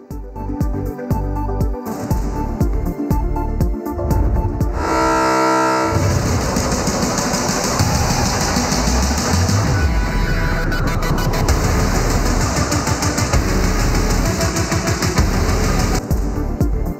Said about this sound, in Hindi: कराची सर्कुलर रेलवे की बोगियां रावलपिंडी से कराची रवाना